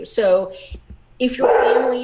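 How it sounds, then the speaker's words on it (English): A pet dog barks and yips excitedly in a few short bursts ahead of being fed, close by, mixed in with a person talking. "that's my dog who's super excited that he's getting food now"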